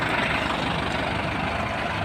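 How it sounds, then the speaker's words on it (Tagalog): A farm tractor engine runs steadily at close range, a continuous low rumble with no breaks and no talking. "Nakasakay na po ako dito sa traktora."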